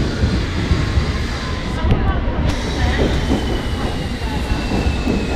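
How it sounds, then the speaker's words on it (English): A train rolling into a station, with a loud low rumble of wheels and carriages and faint squeals over it, as people talk nearby. "here comes a train"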